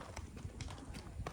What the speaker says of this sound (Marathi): परत आपला घोडा रेडी झाला मस्तपैकी